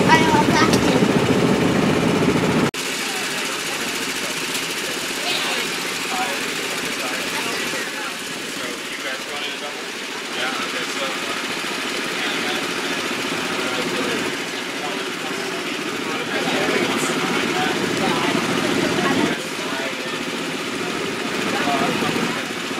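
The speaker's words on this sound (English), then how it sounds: "We're here at the go-kart races." Go-kart engines hum at go-kart races, a steady buzzing drone heard at some distance under nearby talk for the whole clip.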